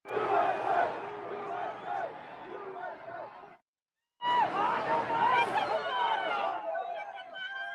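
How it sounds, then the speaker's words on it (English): Large rally crowd for Donald Trump, a dense roar of shouting and chanting voices that cuts out abruptly into a brief silence before resuming just as loud. "Media will not show the magnitude of this crowd."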